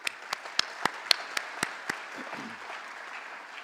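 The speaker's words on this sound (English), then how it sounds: "A round of applause for them, please." Audience applause at a community college commencement ceremony for the speakers and faculty representative, a scattering of distinct claps over a steady patter that fades after about two seconds.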